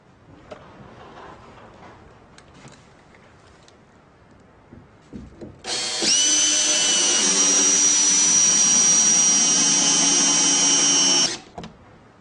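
A power drill drives a SPAX screw into a board and beam in one loud, steady whine lasting about six seconds, after a few quiet handling clicks, then stops abruptly.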